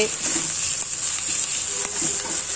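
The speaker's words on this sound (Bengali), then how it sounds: "দেখুন আমার মাছটা ভাজা হয়ে গিয়েছে আমি মাছটা তুলে নিচ্ছি" Rohu fish fries in hot oil, giving a steady, close sizzling hiss with a few faint scrapes and clicks and no voices.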